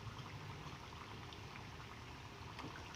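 Chicken wontons fry in hot oil, making a faint, continuous bubbling crackle with scattered small pops, steady from start to finish.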